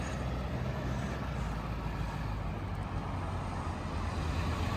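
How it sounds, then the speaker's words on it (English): An old school Ford Powerstroke diesel truck engine idling nearby, a steady, low, rumbling drone with no change in pitch. "We love that old school Powerstroke sound."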